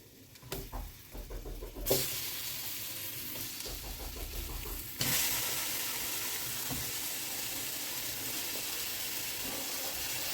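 Chicken pieces frying with spices and onion in a large pot, giving a steady close sizzle with stirring clatter early on, then a louder continuous hiss once the chicken goes in.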